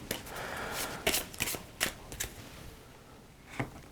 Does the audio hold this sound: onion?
no